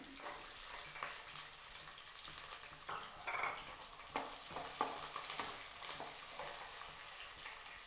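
Green chillies and onions hitting hot oil in a pan for capsicum chitranna, a soft continuous sizzle broken by occasional scrapes and stirring knocks, close and fairly quiet, with no talking.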